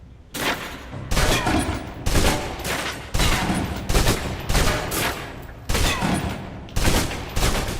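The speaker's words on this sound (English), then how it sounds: "Now, let's move on to the submachine gun. Now let's empty the clip." A submachine gun in a video game empties a full magazine in repeated loud, close bursts of rapid fire, roughly one burst per second, each a harsh crackling volley separated by brief gaps.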